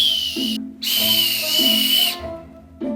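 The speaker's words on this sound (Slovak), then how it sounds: "a to prečo pískame vlastne?" High, steady whistled notes sound in bursts with short gaps, close by, over a faint low tone.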